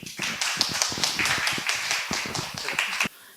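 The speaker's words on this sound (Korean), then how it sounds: "큰 박수로 맞이해 주시면 감사하겠습니다" An audience at a DeFi and AI conference session in Seoul claps to welcome a professor to the stage, with distinct individual claps forming a lively, fairly close burst that cuts off abruptly near the end.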